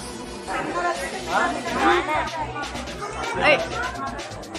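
A dense crowd murmurs inside the Tulja Bhavani temple, overlapping voices forming a steady babble with a few louder nearby talkers rising above the hubbub.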